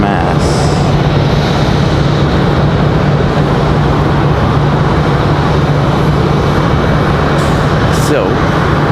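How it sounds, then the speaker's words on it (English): A JetBlue airliner in Peacock livery departs Raleigh-Durham International for Boston, a loud, unbroken jet roar filling the whole stretch with a constant low hum and faint talk underneath. "JetBlue and that Peacock livery getting out of here early."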